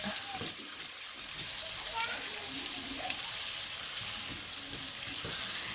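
Fried rice frying in a pan for a homemade egg roll and fried rice meal, a steady broadband sizzle with occasional stirring scrapes, with faint speech now and then.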